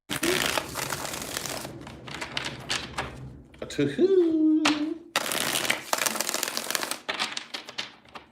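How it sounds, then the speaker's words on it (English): Tarot cards being shuffled during a reading, papery riffles and crinkles in bursts, close up, with a person speaking briefly in between. "Three more shuffles for the Aries."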